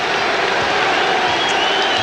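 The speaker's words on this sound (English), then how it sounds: "Boston crowd starting to heat up a little bit." A Boston basketball crowd at a 1982 game against the Seattle SuperSonics cheering and clapping in a loud, continuous roar throughout, without a break.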